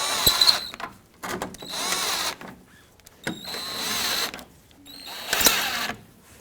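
Power drill snugging small screws into a replacement grille on a 1998–2011 Ford Ranger, with several short whirring bursts separated by pauses, close up and fairly loud.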